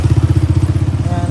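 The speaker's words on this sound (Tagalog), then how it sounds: "May motor." A motorcycle engine thumps close by with a fast, even pulse, loud and steady for about a second before easing slightly.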